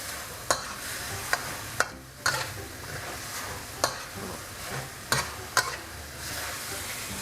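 Shrimp and stink beans with shrimp paste stir-fry in a pan, a soft continuous sizzle broken by sharp spatula scrapes and clacks at an uneven pace, close and fairly quiet.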